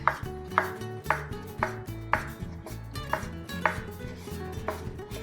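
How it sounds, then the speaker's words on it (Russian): A knife chops a tomato into half-rings on a cutting board while Korean-style eggplant salad is being made, giving a steady series of about ten crisp, close knocks at an even rhythm. "И полукольцами нарезаем томат."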